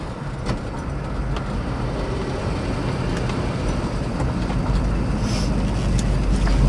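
A 1970 Ford Mustang Mach 1 pulls away, its engine giving a steady, close, broadband rumble from the cabin for several seconds, with no talk.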